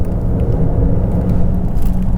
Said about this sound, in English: this car makes a noise. It's a fake noise that it plays into the cabin as electric cars do